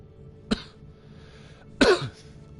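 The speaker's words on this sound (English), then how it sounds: "Let's cough louder into the microphone." Two coughs close to the microphone, a short sharp one followed by a louder, rougher cough about a second later.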